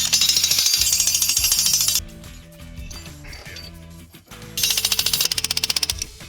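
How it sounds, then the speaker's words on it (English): A 90-pound hydraulic jackhammer drives an earth anchor into the ground in loud, rapid hammering bursts, stopping for a couple of seconds of quieter mechanical noise before the pounding starts again. "Today we're going to be demonstrating driving with a 90-pound jackhammer"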